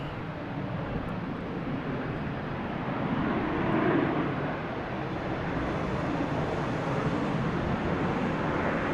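A KLM airliner at Logan Airport produces a steady, broad jet rumble that swells slightly and stays distant.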